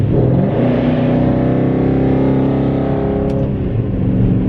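A 2013 Dodge Charger R/T AWD accelerates hard in Sport Plus mode, its engine building into a loud, steady, close-up roar with rising harmonics and no voices over it.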